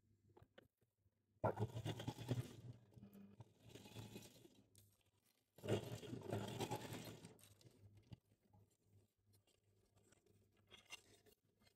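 A sewing machine stitching fabric for a vinyl pouch, running in two bursts of rapid mechanical whirring, the second longer, with quiet handling noises between them and at the end.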